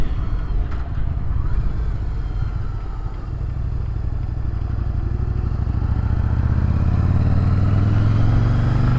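Yamaha Virago 750 motorcycle engine while riding, a continuous droning whine with wind rush, holding steady and swelling louder toward the end.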